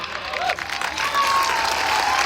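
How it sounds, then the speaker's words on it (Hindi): An audience claps together in a dense, steady burst of applause that holds loud through the moment without pause. "अरे बजा दो ताली यार।"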